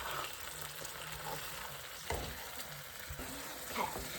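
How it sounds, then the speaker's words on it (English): Scrambled eggs sizzle and crackle in a hot pan while being stirred, a soft steady frying hiss with occasional scrapes and clicks of the utensil, close but quiet, with no talk. "I love the sizzling sound, guys."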